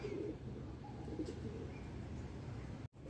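Soft, low pigeon coos come in a few short rolling phrases from an urban rooftop, set against a steady background hum, with a brief clatter near the end.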